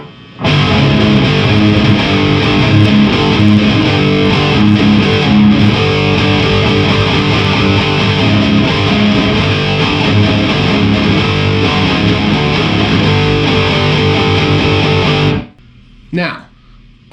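A riff on a heavily distorted seven-string guitar: a loud, dense, driving power-chord riff that runs about fifteen seconds, then stops abruptly, leaving a brief burst of residual noise.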